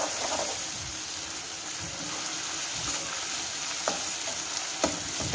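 Tomatoes frying in a pan while upma is being cooked, a soft continuous sizzle with a few light clinks of stirring, close and fairly quiet, with no voices.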